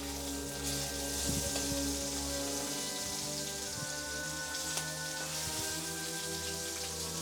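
Steak searing in a hot pan right after being flipped, giving a loud, steady crackling sizzle with occasional sharper pops, close and alone without talk.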